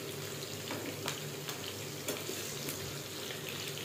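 Potatoes frying in hot oil in a home kitchen, a soft steady sizzle with faint clicks of stirring, fairly quiet and continuous with no talking.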